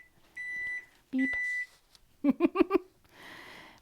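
A kitchen oven timer sounds two steady, clear electronic beeps as baked scones finish, then a voice imitates it with a quick run of beep-like syllables before a soft hiss.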